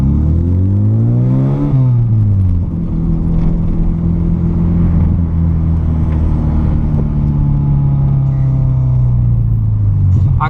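Volkswagen Golf MK3 running without its intermediate and rear mufflers or catalytic converter, its engine droning loud and raw, with a rev rise and drop early on and then a steady, rumbling cruise.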